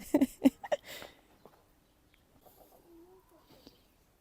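Rooster in a village yard gives several quick, fairly loud clucks close by at the start, then quieter scattered sounds and a faint low call follow.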